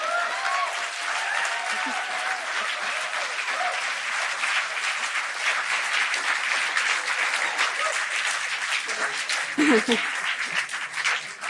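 Sustained applause from a large crowd at a poetry gala, steady and dense throughout, with a few cheers and voices rising near the end.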